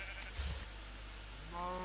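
A single sheep in the Minecraft video game gives a short bleat near the end, rising out of quiet farm ambience, with a brief faint thump earlier and no talking.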